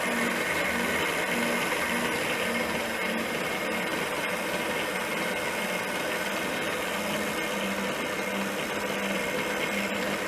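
A serviced vintage KitchenAid stand mixer motor runs steadily after its speed screws are adjusted, giving a continuous close mechanical whir and hum with a faint periodic tone, unchanged across the whole stretch and with no talking.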